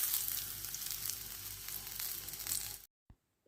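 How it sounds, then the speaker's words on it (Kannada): Sardines coated in semolina sizzle and spit in hot coconut oil, a steady close frying hiss with fine crackles that cuts off abruptly near the end, followed by near silence. "ನಾನಿಲ್ಲಿ ಫಿಶನ್ನು ರವೆಯಲ್ಲಿ ಡಿಪ್ ಮಾಡಿಕೊಂಡು ಫ್ರೈ ಮಾಡ್ತಾ ಇದ್ದೀನಿ"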